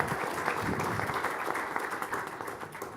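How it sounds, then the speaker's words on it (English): An audience at a radio industry panel session applauds a panelist, a dense, steady wash of many hands clapping at once that holds at an even level for the full three seconds with no voices over it. "round of applause for Todd"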